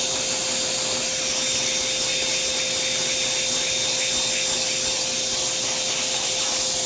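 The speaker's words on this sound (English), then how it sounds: "I'm gonna do a little bit of a surface vacuum here" A vacuum cleaner drones loud and steady as it sucks over the surface of a 1935 IBM Model 01 typewriter, a constant broadband whoosh with a fixed motor whine running unbroken throughout.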